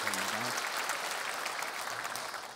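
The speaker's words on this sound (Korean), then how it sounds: "여러분 이 가정 음악의 가정인데 박수를 한번 축복하시고 해주시면 감사하겠습니다" A church congregation applauds during a Sunday service, honoring a musical family; a dense, steady wash of many hands clapping fills the hall, with a brief voice at the very start before the clapping carries on evenly and fades slightly.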